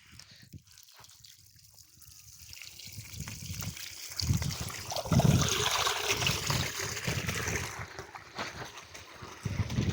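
Water pours from a pipe fed by a solar-pumped borewell, a continuous splashing and trickling gush that grows louder and rougher over the span.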